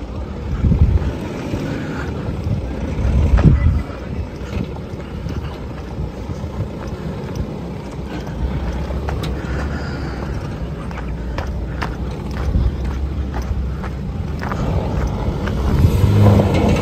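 Force Gurkha SUV at an off-road event, engine rumbling and revving close by with strong wind buffeting the microphone and occasional knocks, steady throughout.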